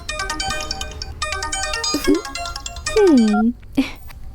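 A mobile phone ringtone plays as a melodic electronic tune with steady harmonic notes for about three seconds, followed by brief voices and a short gliding tone.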